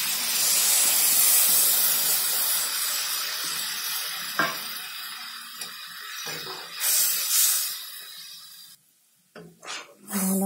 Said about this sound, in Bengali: এবার আমি দিয়ে দেবো যে সরিষাটা বেটে রেখেছিলাম, এটাকে এখানে দিয়ে দেবো।